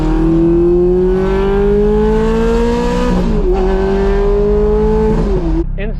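A Ferrari F430 fitted with a Fabspeed exhaust drives loudly past, its engine note climbing steadily as it accelerates and shifts, with a brief dip midway and a loud raspy roar throughout.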